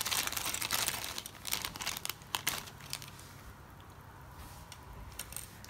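A plastic bag holding Strandbeest kit parts rustles and crinkles up close, busy and loud at first, then thinning out to scattered soft crackles, with no one talking.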